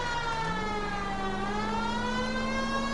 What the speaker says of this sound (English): Enjoy the nice hum of the sirens.